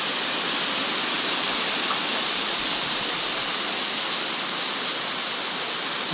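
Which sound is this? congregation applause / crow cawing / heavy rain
heavy rain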